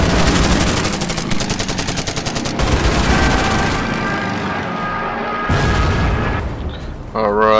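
Rapid gunfire in the Order of Battle Pacific video game rattles at an attacking bomber: loud, dense bursts of machine-gun fire and booming shots, then a quieter stretch before renewed firing.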